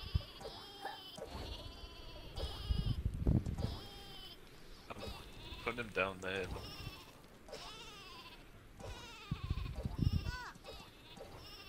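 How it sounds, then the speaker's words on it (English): The sheep weapon in the Worms WMD video game bleats repeatedly in wavering cries throughout, mixed with game sounds while several players talk and react over it. "Why are you trying to send sheep on us?"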